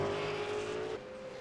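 Grasim GV8 race cars racing at Canadian Tire give a loud, close engine drone that holds a steady pitch before dropping as a car passes, lasting barely over a second.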